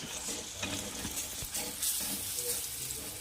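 A spoon stirs potato and eggplant curry, seasoned with masala and crushed roasted peanuts, in a pan, with steady scraping strokes over a continuous sizzle and occasional knocks against the pan.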